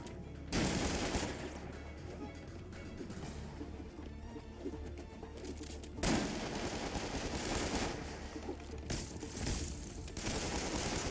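Sniper gunfire in the video game Marvel's Spider-Man: loud bursts of shots erupt at the start, around the middle and near the end over a continuous, busy game soundscape.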